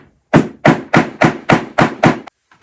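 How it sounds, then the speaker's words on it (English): Seven evenly spaced sharp hammer blows setting a metal snap into a handmade notebook, close and loud with short pauses between strikes, followed by two faint taps. "I'm just going to hammer it"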